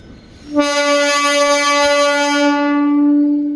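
The KSR Bengaluru–Tumakuru MEMU express sounds one long, loud, sustained horn blast as it departs, starting abruptly after a quiet moment and holding to the end.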